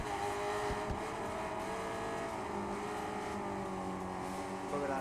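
A 500cc racing motorcycle engine in the Ride 5 racing game drones at high revs, loud and steady for several seconds, with layered harmonic whine and slight pitch shifts as it holds speed.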